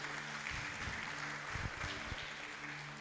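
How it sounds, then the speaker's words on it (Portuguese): Church congregation applauding, a soft, somewhat distant patter of clapping from the gathered crowd, heard over a hum and a roomy background. "Você pode aplaudir o nosso pastor Jesus?"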